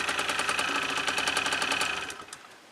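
A D-Cross motorbike engine revs hard under acceleration, a loud, dense buzzing drone with rapid pulsing that holds steady for about two seconds, then drops away as the throttle closes.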